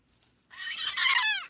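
A fighting bantam rooster lets out one short, shrill squawk that swells and then bends downward, lasting about a second, close by against a quiet background.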